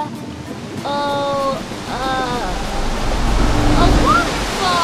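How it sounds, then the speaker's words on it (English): An animated waterfall pouring into a freshwater lake, a broad continuous rush of water that swells slightly, with cartoon voices calling out over it. "It's a waterfall."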